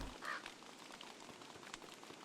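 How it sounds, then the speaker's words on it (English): Rain falls in a video game, a faint, steady hiss of drops with no talking. "It's raining."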